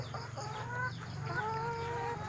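Old chickens on a small Thai backyard farm cluck in overlapping, nasal calls, fairly close, over a low steady background hum.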